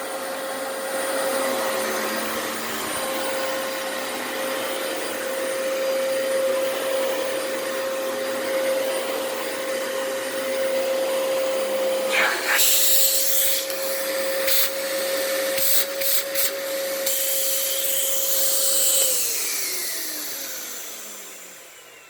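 A 2004 Dyson DC14 Low Reach upright vacuum cleaner runs steadily with a loud, continuous motor whine, and its airflow turns rougher and more turbulent partway through before the motor winds down near the end.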